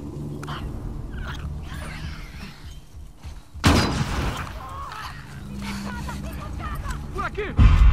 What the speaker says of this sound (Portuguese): Vamos soltar essa bombinha aqui.